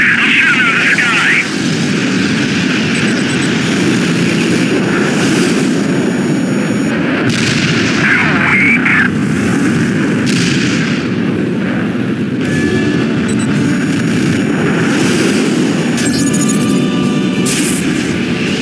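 Aerial combat from the video game Ace Combat Assault Horizon Legacy: jet engines roar while bursts of cannon fire and booming explosions repeat throughout, and voices talk over the top.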